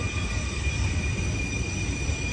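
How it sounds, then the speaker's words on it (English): A train passes near the old Seaholm power plant in Austin, Texas, a steady rumbling roll with a high metallic wheel squeal running continuously throughout, fairly loud and close. "So as you hear the train here,"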